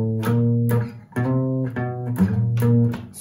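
Guitar strings plucked one at a time, each note ringing out and decaying before the next, at a slow, even pace with no voices.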